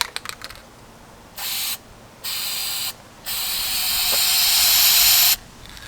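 Short bursts of aerosol spray paint hiss close by, painting racing stripes on a Mustang GT outdoors in wind: two quick sprays, then a longer sustained one, with pauses of quiet between.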